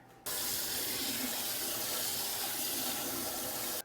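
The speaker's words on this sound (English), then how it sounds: "I'm gonna dump this and rinse it" Tap water gushing steadily into a sink while small-cut french fries are rinsed in a strainer, a close, even rush that starts abruptly and stops at the end.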